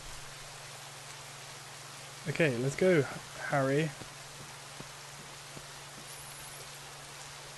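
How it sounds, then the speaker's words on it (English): Heavy rain pours steadily in the slums level of the game The Swindle, a loud, constant hiss filling the whole stretch while someone speaks briefly over it. "That rain's very loud."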